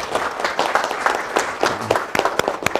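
Brief, lively applause from a lecture audience, scattered clapping building over about three seconds, fairly close.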